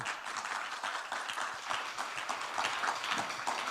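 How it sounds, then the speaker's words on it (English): An audience at a talent-trends forum applauds panel guests after their discussion, a steady wash of many hands clapping at a slight distance, sustained and fairly even for the whole stretch. "A round of applause for our guests."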